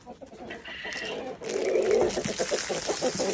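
Hens cluck and squawk nearby on a homestead in a busy, rhythmic burst, rising after a quieter start, with someone speaking briefly.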